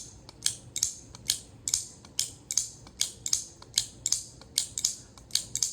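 An EDC folding knife made by a sword company is flicked open and snapped shut again and again, giving about a dozen crisp, close mechanical clicks in an even rhythm.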